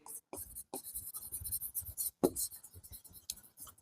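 Close, scratchy strokes of a pen writing on paper, coming in short repeated bursts while a person talks quietly alongside.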